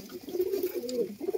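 Heavy Andhra pigeons giving a continuous murmur of low, throaty coos nearby, the calls swelling and blending without break.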